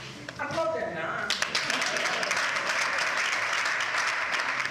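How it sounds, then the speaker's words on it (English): Applause from an audience at a live public event where officials from a commerce and industry ministry are being recognised; steady clapping rises after a brief voice and fills the rest of the moment, moderately loud. "Applaud them now."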